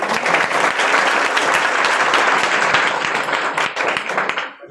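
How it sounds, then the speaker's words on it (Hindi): Audience members at a seminar in Bikramganj clap together loudly, a thick rapid patter of many hands that holds steady for several seconds and then thins out near the end. "एक बार ताली बजा दो यार।"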